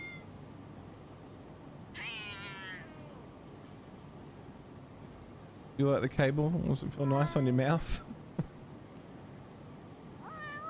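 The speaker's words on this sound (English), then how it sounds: "God, you can hear the cats still from downstairs." Cats meow inside the video game Judgment, heard as a couple of clear, close mewing calls: one short cry early on and a louder burst of repeated meows later, with a person talking over a quiet background.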